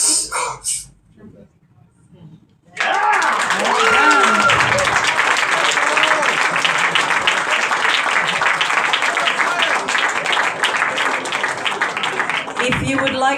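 At a film pitch summer social, a room of people bursts into loud, sustained applause after a brief spoken moment, clapping thick and even with occasional whoops, tapering slightly near the end.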